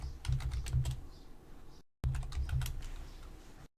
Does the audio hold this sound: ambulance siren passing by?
no